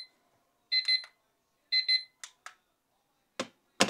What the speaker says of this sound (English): We'll correctly set up and listen to the alarm go off.